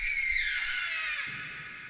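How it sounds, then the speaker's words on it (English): A drawn-out high scream from the horror video game The Joy of Creation Story Mode, loud and sustained, slowly sliding downward in pitch before fading out abruptly. "Was that a scream?"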